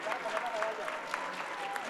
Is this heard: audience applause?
yes